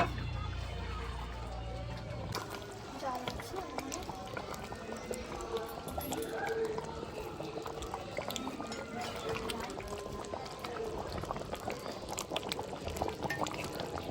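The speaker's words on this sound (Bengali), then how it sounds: "বন্ধুরা দেখো নামানোর পরেও ফুটে যাচ্ছে" Goat meat curry bubbles and boils in a pot, a steady busy simmer of popping bubbles and liquid churn that keeps going for a long stretch at moderate loudness.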